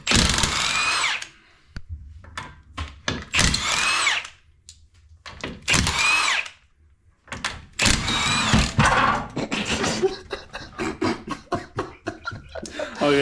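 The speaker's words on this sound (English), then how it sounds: "Alvaro is taking the wheel off, and this time I'm filming while he's taking it off." Pneumatic or power tool bursts while a wheel is removed from an Audi TT Mk2 in a workshop, several short loud whirring runs separated by pauses and clunks, close and clear.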